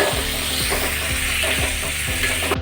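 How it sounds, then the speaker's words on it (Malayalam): Onion, tomato and green chilli sautéing in a hot pan, a steady loud sizzle with rhythmic scraping strokes of a spoon stirring through it, no talk. "ഇതിലൂടെ നന്നായിട്ടൊന്ന് വഴറ്റി വെക്കാം"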